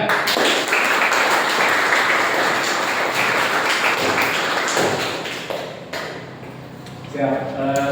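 Students clap together in a classroom during an automotive engineering lesson on motorcycle suspension, a dense, sustained burst of applause that fades toward the end, with a voice speaking briefly at the close.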